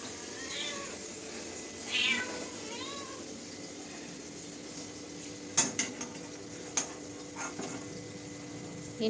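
A pet cat meows insistently in a home kitchen during preparation of festival food offerings, several drawn-out calls near the start, followed later by sharp clinks of dishes and utensils.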